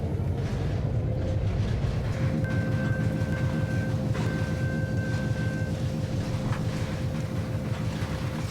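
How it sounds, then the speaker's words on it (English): Train rolling past on a railway in a steady, continuous rumble, with a sustained horn-like tone held through most of the passage and a higher whistle tone near the middle, dense low rumble throughout. "I think we should follow that train."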